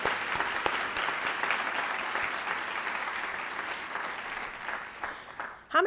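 Sustained applause from a large audience at a university Founder's Day convocation, a steady dense wash of clapping that holds for several seconds and tapers off near the end.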